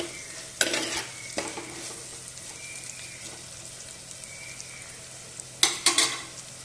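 Bitter gourd for pickle fries in a pan with a low, even sizzle. Louder bursts of stirring scrapes come near the start and again near the end.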